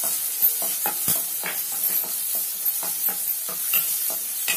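Green chillies frying in hot oil, a steady close sizzle broken by repeated scraping stirs at an irregular rhythm, with no voices.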